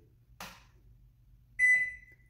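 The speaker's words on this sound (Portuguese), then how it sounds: "já deu o bip, já ligou" A microwave oven keypad gives a single clear electronic beep, sharp and steady, sounding once after a short click against a quiet hum.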